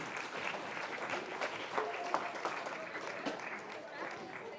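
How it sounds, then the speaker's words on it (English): An awards-ceremony audience applauds personal finance case study winners at an economic education quiz bowl, a sustained, moderately distant patter of many hands clapping with a few sharper claps and faint voices mixed in. "Let's give all of the personal finance case study winners a round of applause."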